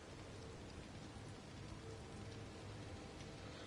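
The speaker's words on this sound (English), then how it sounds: "so hopefully this rain doesn't last too long" Steady rain falling in the Disney Dreamlight Valley video game, a constant dense hiss of drops with faint low rumbling underneath, even and unbroken throughout with no voices.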